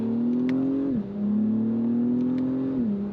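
A 2024 Acura TLX Type S in sport mode, its engine droning steadily under load with two brief dips as revs drop, like gear changes, heard close and alone.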